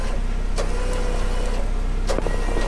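Jeep being winched or pulled forward a few inches on a steep rocky trail with its front wheels rolling free, a steady close mechanical engine and motor drone with a couple of faint knocks.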